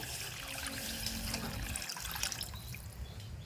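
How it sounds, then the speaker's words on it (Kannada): Water poured into sambar cooking in a pot, a steady close trickle and splash running throughout with no talk. "ಈಗ ನಾನು ಒಂದು ಚರ್ಗಿ ಹಾಕೊಂಡೇನ್ರಿ ಇನ್ನೊಂದು ಚರ್ಗಿ ನೀರು ಹಾಕೊಂಡ್ರಿ"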